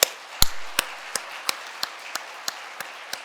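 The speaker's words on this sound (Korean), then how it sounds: "크게 박수로 격려하시기 바랍니다" Sparse, distinct hand claps sound in a church sanctuary during a Sunday worship service, about a dozen spaced, echoing claps that thin out over three seconds, with one louder thump early on.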